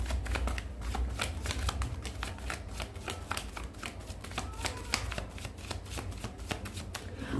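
Tarot cards shuffled by hand in rapid, continuous riffling bursts, close and crisp, a steady patter of card edges slapping together without pause.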